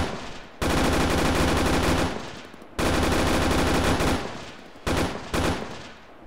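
Unsuppressed machine gun fire in the Arma 3 video game, three long loud bursts of rapid automatic shots separated by short pauses, close and alone.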